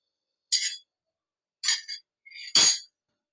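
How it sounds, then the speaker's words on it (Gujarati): A metal kadai is set down on a stove in a home kitchen while making Kathiyawadi gunda curry, giving three short clinking knocks spaced about a second apart, the last one the loudest and fullest, with no talking. "તો હવે આપણે આ કડાઈ મૂકશું"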